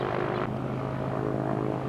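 A helicopter at Big Bear City Airport idling near the terminal, its engine and rotor making a loud, steady droning whine close by with no voices over it.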